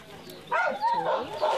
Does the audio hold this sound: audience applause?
no